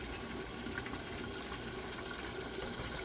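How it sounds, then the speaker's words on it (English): Spinn coffee maker drawing in water from a connected water line as it refills, a steady, continuous rushing flow that stays even and fairly quiet throughout with no speech. "That's the water refilling itself."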